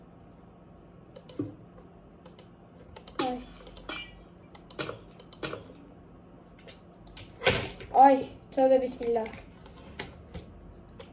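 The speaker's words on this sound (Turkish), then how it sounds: "Klavyem düştü." A computer keyboard falls during a Minecraft session: one sharp, loud clatter close by, followed by a few lighter knocks, with someone speaking before and after.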